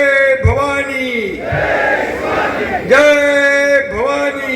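A crowd at an outdoor political rally in Satara, Maharashtra, roars and cheers in a loud surge between lines of a man's amplified speech, with voices continuing before and after.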